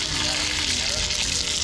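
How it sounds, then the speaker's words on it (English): Barracuda fries in hot oil with a loud, steady crackling sizzle, close up, while someone speaks faintly underneath. "we're up on the last of the barracuda them, the last frying"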